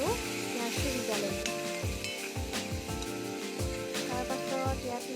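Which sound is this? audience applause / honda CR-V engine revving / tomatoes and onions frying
tomatoes and onions frying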